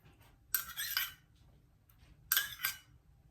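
A metal tablespoon clinks and scrapes as tomato sauce is spread onto pizza bread: two short separate bursts of bright spoon-on-surface tapping, close and faint, with quiet between and no talk.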